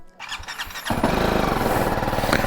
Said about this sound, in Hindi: देखते हैं बाइक पहली बार में स्टार्ट होती है या नहीं।